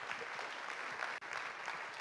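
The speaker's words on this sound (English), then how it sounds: "A round of applause." Audience applause at a startup pitching event, steady clapping from a crowd with a brief break near the middle before it picks up again.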